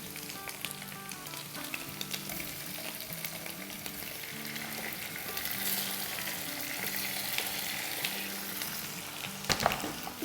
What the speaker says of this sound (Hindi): और अब इसमें हम डाल देंगे अपने टमाटोज़।